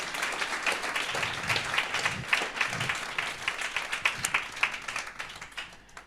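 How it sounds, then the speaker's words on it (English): Applause from an audience at a circular economy hackathon's final pitch event, a steady wash of many hands clapping for about six seconds, moderately loud with no talking over it. "Let's give them a very, very big applause."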